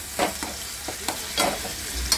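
Tomatoes, seeds removed, frying and being stirred and mashed with roasted onion in a pan for a surmai fish masala curry; soft sizzle under repeated scraping strokes of a spoon, close and moderately loud, with no talking.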